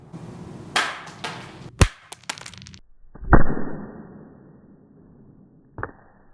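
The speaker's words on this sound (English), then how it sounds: "Dropping it 4 feet glass back first, well, the back cracks" An iPhone 6 in a glass-backed Amzer Crusta case hits a hard floor back first from about four feet, the glass cracking with sharp clattering impacts, a loud crack and a later smaller knock, with no talking.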